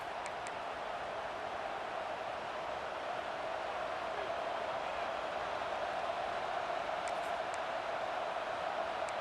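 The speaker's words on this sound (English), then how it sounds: "Listen to the crowd energy here in the early going." A distant stadium crowd in a college football video game (EA Sports College Football 26) roars in a constant, even wash of noise, with no distinct cheers or voices standing out.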